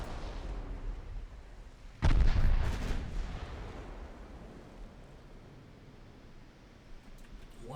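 In a naval warfare video game, a battleship takes a sudden booming artillery hit followed by a rumbling roar that fades into a low, wash-like background of sea and distant gunfire.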